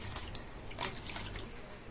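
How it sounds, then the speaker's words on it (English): A goat leg being rinsed with maida flour under running tap water in a kitchen sink, a soft continuous trickle with a few sharper splashes, fairly quiet and close. "I put this in the maida and I'm washing it nicely so that it all comes out and everything will be clean."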